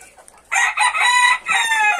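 A six-month-old young rooster in a henhouse crows once, a loud, close, drawn-out call that breaks briefly and resumes, with no talk over it.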